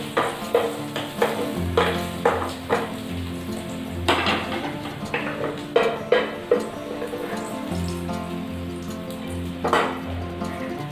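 Daliya (broken wheat) roasting in a pan, sizzling steadily while a spoon stirs it, with frequent close clinks and scrapes of metal against the pan over the constant hiss.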